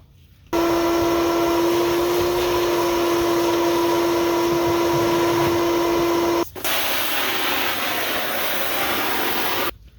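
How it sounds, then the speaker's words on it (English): A vacuum cleaner switches on to clean out an inflatable boat, running with a loud, steady whine, briefly cuts out, then roars again with a harsher airflow before stopping. "I think I might vacuum this out first."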